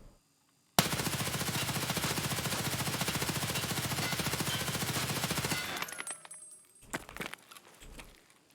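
Sustained hipfire automatic gunfire in Escape From Tarkov, a loud rapid burst lasting about five seconds, then scattered clicks, a few more shots and quiet handling noises.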